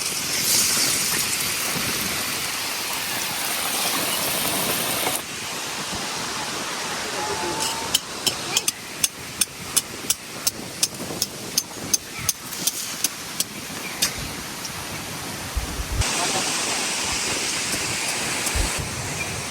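Egg-batter pitha deep-fries in hot oil, giving a steady broad hiss. Midway, a run of sharp, regular ticks and crackles cuts through before the even sizzle returns.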